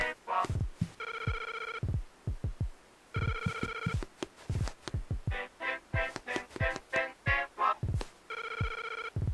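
Phone booth telephone ringing in the Link's Awakening video game, repeated bright electronic ring bursts alternating with quick rhythmic percussive blips, loud and close.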